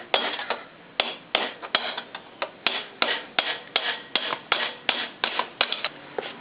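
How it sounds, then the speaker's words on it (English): Metal-on-metal hammer taps on an old screwdriver driving a motorcycle axle out of the wheel, a steady series of about twenty sharp, close strikes with short ringing decays and no talk. "take an old screwdriver and a hammer and just gently tap it through"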